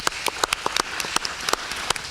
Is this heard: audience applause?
yes